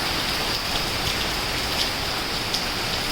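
Steady, dense rainfall pours down without pause, a loud continuous hiss of heavy rain with faint drops pattering on surfaces.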